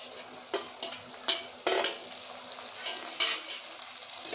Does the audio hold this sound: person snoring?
no